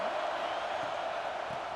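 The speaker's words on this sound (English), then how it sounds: "This crowd bringing the energy and noise early." Stadium crowd roaring steadily at a Michigan vs Oregon college football game, a dense, continuous wash of cheering voices filling the space without a break.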